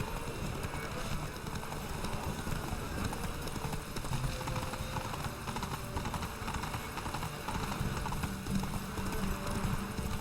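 The horse Roach gallops in The Witcher 3: Wild Hunt with steady clip-clop hoofbeats, continuous and moderately loud under game ambience.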